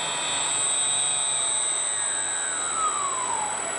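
A CNC spindle motor on a PI7600 inverter speed control runs with a steady high-pitched whine, one tone gliding downward as the speed drops, faint and alone.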